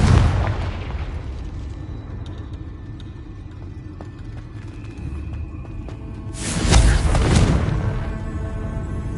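A Confringo fire spell blast in Hogwarts Legacy lands with a loud, booming burst partway through, rising out of a steady rumbling background.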